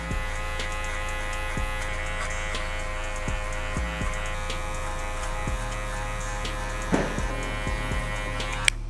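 Electric hair clippers fitted with a 1.5 guard cut a man's hair, a steady close buzzing hum with small clicks and taps as the blade moves through the hair, and no one speaks.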